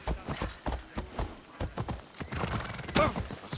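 A horse gallops with rapid hoof clip-clops and lets out a loud neigh, in the Assassin's Creed Odyssey video game; the hoofbeats keep a steady driving rhythm close by.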